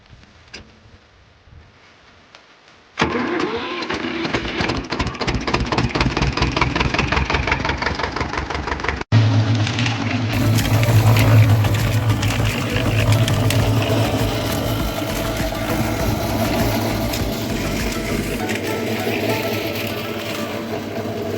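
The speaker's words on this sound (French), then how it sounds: "On va redémarrer le tracteur." A tractor engine cranks and catches after a quiet start, then settles into a loud, steady, knocking diesel idle that rises briefly in pitch.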